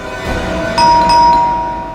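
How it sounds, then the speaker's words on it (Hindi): A household doorbell chimes twice in quick succession, two bright tonal rings that sustain and ring out over a low hum of room noise, with no voices. "आज तो लगता है घंटी खराब करके छोड़ेंगे।"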